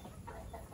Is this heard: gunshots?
no